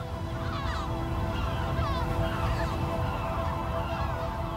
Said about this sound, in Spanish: Entre ensordecedores chillidos, las gaviotas sobrevuelan el roque chico de Salmor.